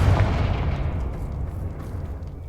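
A Confringo explosion spell from the video game Hogwarts Legacy bursts loudly with a deep rumbling boom that rolls on and slowly fades, with no talking.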